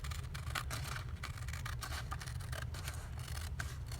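Paper book page being trimmed to size with scissors, a run of steady close snips and crisp paper crunches over a continuous low rumble.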